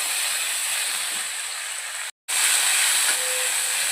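Coriander, red chilli powder, turmeric and ginger-garlic paste fry in hot oil for bitter gourd masala, giving a steady loud sizzling hiss with a brief cut near the middle.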